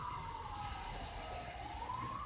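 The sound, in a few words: emergency vehicle siren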